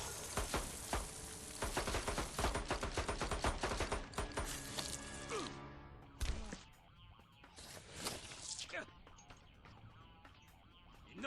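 Pistol gunfire from the fighting game Mortal Kombat (2011): a dense, rapid volley of shots fills the first several seconds, then thins into scattered loud impacts and bursts over game music.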